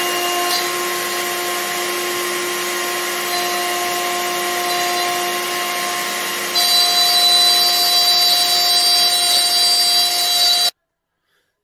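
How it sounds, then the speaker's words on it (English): Router cutting a slot in blackwood hardwood for a phone docking station, a loud steady high-pitched whine that grows harsher partway through as the bit bites, then cuts off abruptly before a brief silence. "here we need to cut a slot on the router"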